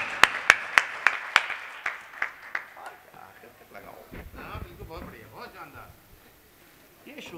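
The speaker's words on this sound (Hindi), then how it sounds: "बरेली के लोगों जरा हाथ उठा करके तालियों में बदल करके बता देना" Several sharp, evenly spaced claps ring out near and loud from the audience in Bareilly. They taper off after a couple of seconds, and a voice carries on talking over quiet background murmur.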